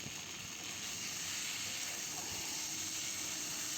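Potatoes and spice masala sautéing in a pan for an egg curry give off a steady, continuous sizzling hiss at moderate level, with no talk over it.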